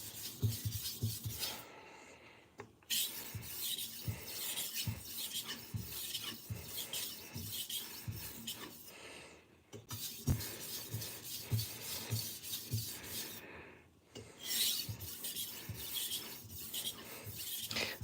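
A kitchen knife is sharpened freehand with half strokes on each side, giving steady rhythmic rasping scrapes in close, repeated runs separated by brief pauses, with no talking.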